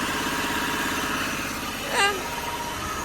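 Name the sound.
BMW E28 car engine running and idling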